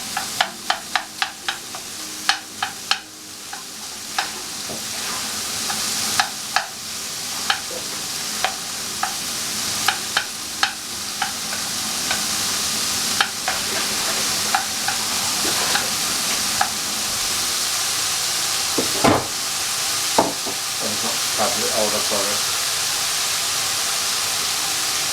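Bacon sizzles steadily in a hot pan for mac and cheese, with frequent clicks and scrapes as it is stirred; a dense, continuous fry with no talk.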